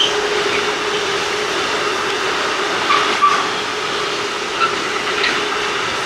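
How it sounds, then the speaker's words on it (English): Train passing on a railway beside the Rhine near Speyer, Germany: a steady, moderately loud rolling rumble and hiss that holds constant throughout, with a couple of faint squeals or clanks partway through. "Let's wait for the train to pass."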